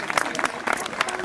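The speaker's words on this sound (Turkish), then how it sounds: "Hep birlikte alkışlıyoruz." Audience clapping at a Turkish cultural association celebration in Hamm, a short burst of dense, fairly close hand claps from a crowd, with voices mixed in.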